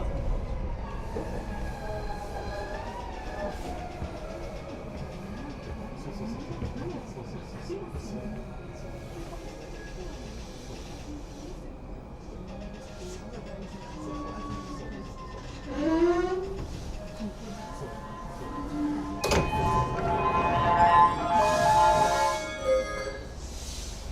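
A train ride between Shibuya and Harajuku stations in Tokyo, with a low steady rumble of the carriage in motion, chiming tones and announcement-like sounds, and a louder burst of running noise near the end.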